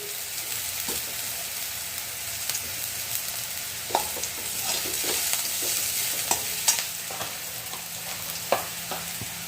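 Onion and potato frying in a pan for a leftover-rice breakfast dish, a continuous close sizzle broken by repeated sharp spatula clicks and scrapes as the mixture is stirred.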